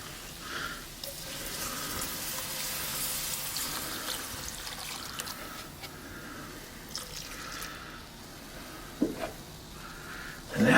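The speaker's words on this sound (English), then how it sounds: "Now we're going to start adding milk." Milk poured into sausage gravy in a cast iron pan at a camp cooking setup, a steady liquid splashing and sizzling wash with occasional clinks and drips, no talk.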